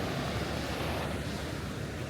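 Continuous broadband roar of ocean surf along the Bengkulu coastline, heard from the roadside with wind buffeting the microphone throughout.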